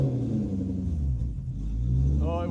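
Car engine held around 3000 rpm with a jump pack just removed and a failing alternator, a steady loud rumbling drone that sags midway as if about to stall, then picks back up.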